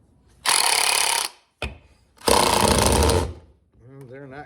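A power driver whirs in two long bursts with a brief click between them while it works at Phillips head screws on a Parker float drain for compressed air, followed by a short spoken remark.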